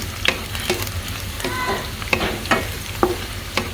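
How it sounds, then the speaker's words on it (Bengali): Chopped onions and torn bay leaves fry in oil for a lentil and mutton dish, a steady close sizzle punctuated by repeated spatula scrapes and taps against the pan. "কিছু পেঁয়াজ কুচি দিয়ে দিয়েছি। পেঁয়াজটা আমি একটু ব্রাউন কালার পর্যন্ত করব"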